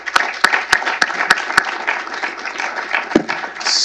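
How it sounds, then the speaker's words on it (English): An audience applauds after a team's panel session at a policy event on federal lands management, a steady patter of clapping with a few sharp loud claps near the microphone early on. "a round of applause for this great team."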